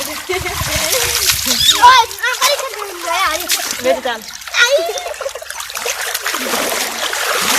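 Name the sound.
children splashing in a canal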